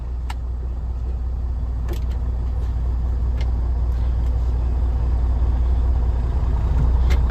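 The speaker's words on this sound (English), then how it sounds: "And there the engine pulled against the brakes." Freightliner Cascadia truck engine pulling against the brakes during an inspection brake test, a steady low idle-like rumble that swells slightly toward the end, with a few faint clicks and ticks over it.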